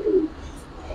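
A single short, low coo from an old-breed pigeon sounds close at the start, then fades into quiet room noise.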